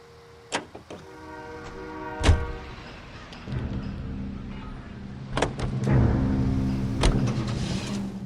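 A 1940s-era car in L.A. Noire starts up and drives off, with clicks and door thuds giving way to a steady low engine hum that builds gradually beneath scattered sharp knocks.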